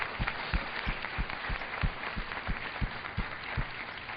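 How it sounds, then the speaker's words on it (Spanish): Church congregation applauding during a sermon on the Messiah, a steady dense wash of clapping with regular loud rhythmic claps or foot stomps pulsing about every third of a second, no voices over it. "Den un aplauso a Él."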